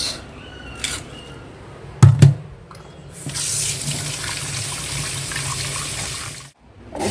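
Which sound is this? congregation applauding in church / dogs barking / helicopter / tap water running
tap water running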